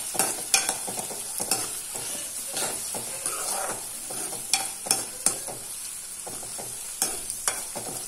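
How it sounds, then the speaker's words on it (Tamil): Curry leaves sautéing with onions in a hot pan for banana flower poriyal, a bright continuous sizzle broken by repeated close stirring scrapes and spatula knocks throughout. "கருவேப்பிலை சேர்த்துட்டு நல்லா வதக்கிடுங்க"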